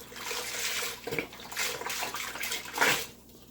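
Water pours into a pot of French onion soup with a splashing, gurgling rush that swells and fades in a few short surges, close by and fairly quiet.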